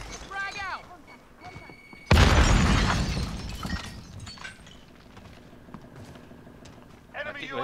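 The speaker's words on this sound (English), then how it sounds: "Grenade out." A frag grenade goes off in a first-person shooter match, one sudden loud burst that decays over a couple of seconds, with players talking faintly before and after.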